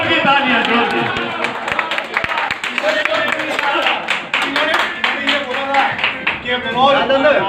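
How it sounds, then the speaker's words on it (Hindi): Loud, dense clapping from a crowd at a Panipat club New Year 2022 programme, with sharp individual claps and voices mixed in throughout. "तालियां, जोर की तालियां,"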